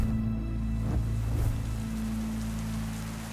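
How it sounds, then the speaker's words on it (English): Heavy rain falls steadily as a dense, even wash of noise, with a low steady hum underneath, fading slightly toward the end. "The mist had cleared, and a heavy rain had spawned."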